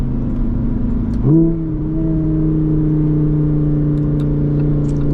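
A Lamborghini Huracan EVO Spyder's engine hums steadily from the cabin while driving in Dubai, with a sudden shift in pitch early on before settling into an even, sustained drone.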